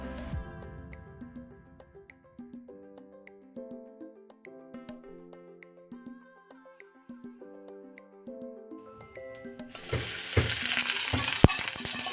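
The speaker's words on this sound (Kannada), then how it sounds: "ಇವಾಗ ಶುಂಠಿ ನಾನು ಎಲ್ಲನೂ ಸಹ ಹುರ್ಕೋತಾ ಇದ್ದೀನಿ" Melodic music plays for most of the clip, then a loud, close sizzle of ginger frying in a pan breaks in near the end.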